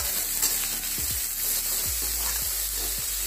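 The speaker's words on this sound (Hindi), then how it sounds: "बस हल्का सा सॉटे करना है।" Chillies sizzle gently as they are lightly sautéed in a pan for a matar paneer dish, a constant frying hiss broken by a few soft stirring knocks, with no talking.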